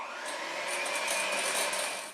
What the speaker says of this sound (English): go ahead and blend that up entirely